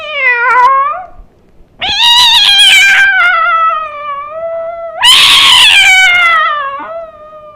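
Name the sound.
voice imitating two cats fighting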